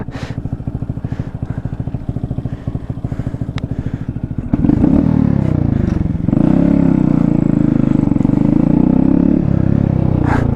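A Yamaha R1 motorcycle with a hole blown in its exhaust idles with a rough, clattering pulse, then bursts into loud, sustained revving held close by for several seconds.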